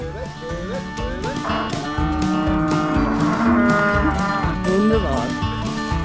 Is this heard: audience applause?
no